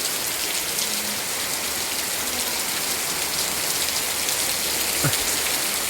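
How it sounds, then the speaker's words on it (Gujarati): A hard downpour falls at a home in the afternoon, filling the air with a constant close hiss of drops, with one brief knock near the end and no talking. "માર વરસાદ આવે છે"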